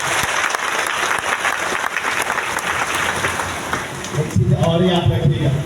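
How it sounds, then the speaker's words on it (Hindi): Loud, dense applause from an audience at a large DXN mega event in Latehar, Jharkhand, sustained for several seconds before a voice starts speaking over the tail of the clapping. "एक जोरदार ताली आप सुनेंगे।"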